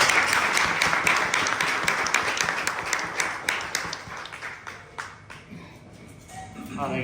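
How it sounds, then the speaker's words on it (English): An audience at a talk on educational inequality applauds Barry, a warm burst of clapping that gradually thins and fades toward the end, with some voices audible as it dies down. "So please give Barry a big round of applause."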